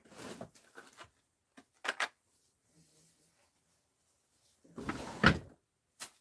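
A drawer is pulled open during a frantic search of a cluttered room: a few quiet knocks and taps, then a louder, longer sliding rattle with a final sharp clack.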